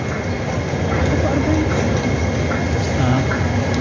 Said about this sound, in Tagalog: Going to the train.